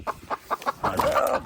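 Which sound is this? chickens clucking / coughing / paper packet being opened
chickens clucking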